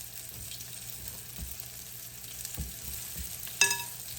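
Pork chops coated in buttermilk and flour frying in a pan, a soft steady sizzle with a few low bumps and a short clink near the end, fairly quiet, no voices.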